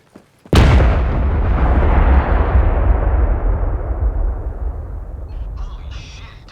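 A large explosion in the VR shooter Zero Caliber VR erupts with a sudden loud boom, then a long rumbling roar that slowly fades over several seconds, with faint voices near the end.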